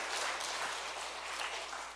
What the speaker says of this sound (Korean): 여호와께 감사 박수하겠습니다.